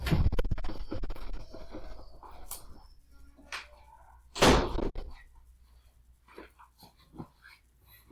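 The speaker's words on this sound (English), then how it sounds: "Give me a second to close the door." A door is pushed shut indoors at home with a scrape and a solid thud partway through, followed by quieter shuffling and small knocks, close by, with no talking.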